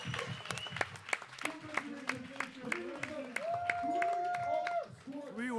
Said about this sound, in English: Listen, listen to the crowd.